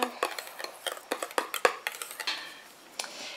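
A foot cream mixture is stirred in a container, its utensil clinking and scraping against the sides in quick, irregular taps, close and clear, with no talking.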